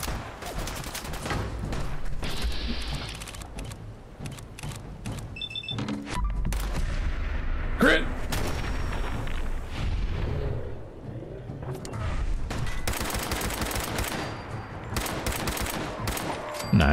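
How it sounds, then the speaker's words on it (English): Gunfire aimed at the player in the video game Fallout 4, sustained bursts of rapid shots and impacts over a busy battle soundscape, loud and continuous with brief lulls, faint voices occasionally underneath. "Somebody else shooting me?"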